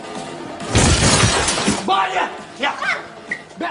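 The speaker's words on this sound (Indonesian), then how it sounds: "Bisma tidak sengaja menabrak pintu kaca sampai pecah" A glass door shatters with a loud burst of crashing glass, followed by tinkling fragments and then raised voices, in an Indonesian drama series.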